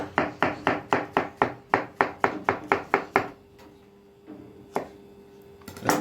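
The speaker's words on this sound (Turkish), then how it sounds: "Mantarımız büyük olduğu için biz ortadan ikiye ayırıyoruz." A knife chops rapidly through mushrooms on a cutting board, about a dozen quick even strokes, then a pause with a few scattered knocks near the end.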